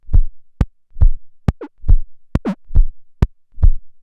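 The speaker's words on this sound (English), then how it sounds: "channel 4 is getting sent back into itself as well to kind of enhance that bass sound" Gated bass feedback from a mixer channel routed back into itself: loud, deep thumps pulse in a steady rhythm, roughly two per second, broken by a couple of short sweeping, warbling tones.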